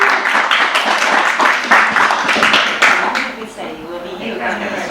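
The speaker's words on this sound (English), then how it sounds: "Let's please give a warm round of applause to our three object lesson authors today." An audience at an author reading applauds the three authors, with a dense burst of clapping that fills the room up front and then thins and fades toward the end, and voices are heard in the mix.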